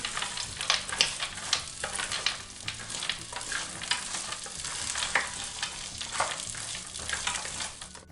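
Frozen manti dumplings fry in a pan, a continuous crackling sizzle punctuated by repeated scraping and clattering pulses as they are stirred, fairly close and steady with no voices.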